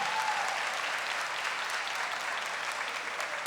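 Steady applause from a church audience, sustained and fairly faint, with no voices over it.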